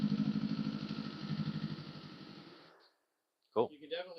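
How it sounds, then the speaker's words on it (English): A Kawasaki Eliminator motorcycle fitted with a Coffman's Thunder exhaust idles close by with a steady, throbbing rumble for about three seconds, then cuts out, and a voice comes in after a brief silence. "It sounds like a motorcycle now."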